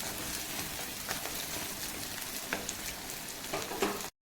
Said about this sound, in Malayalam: പത്ത് ചെറിയ ഉള്ളി ചെറുതായിട്ട് അരിഞ്ഞു വെച്ച് ഇട്ട് കൊടുക്കാം. നന്നായി മൂത്ത് വരണം.